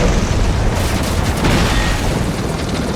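A gas tank explodes in a James Bond film scene, a loud, dense rumbling blast with sustained roaring debris noise filling the full three seconds.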